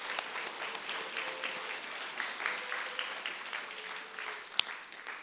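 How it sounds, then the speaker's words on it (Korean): A church congregation at a Korean Sunday service breaks into applause, a steady, moderately loud wash of many hands clapping together for several seconds in a reverberant hall, with a brief sharp knock near the end. "우리 박수 한번 합시다."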